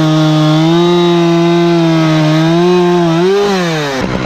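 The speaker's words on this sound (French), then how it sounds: "t'as vu, où ma tronçonneuse coupe énormément bien." Chainsaw cutting wood, its engine holding a loud, steady high-pitched whine close by that bends upward near the end before cutting off abruptly.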